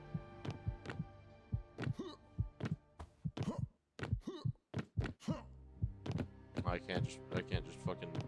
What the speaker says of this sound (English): You know a man is absolutely fucked up at the moment if you can audibly hear his heartbeat